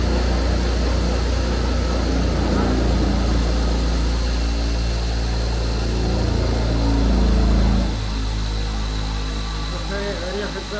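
A horizontal foam cutting machine runs with a steady droning motor hum and whine, swelling slightly before settling, while people talk over it.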